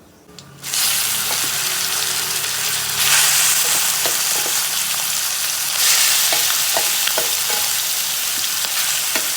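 Fennel and curry leaves fry in hot oil for a squid fry, then a loud sizzle surges as more goes into the pan, crackling steadily with scattered sharp pops and occasional stirring.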